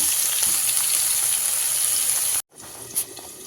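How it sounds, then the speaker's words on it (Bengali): Potatoes fry in oil in a pan, a continuous loud hiss and crackle that cuts out abruptly to near silence, then resumes more quietly with a small pop. "তো বন্ধুরা আলুটা আশা করি ফ্রাই করা হয়ে গেছে।"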